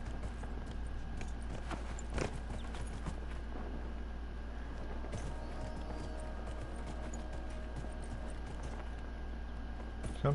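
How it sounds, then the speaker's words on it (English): Steady clip-clop of horse hooves at a walking pace in Dragon Age: Inquisition under a constant low hum, the rhythm continuing evenly throughout. "The horse can climb a little bit easier"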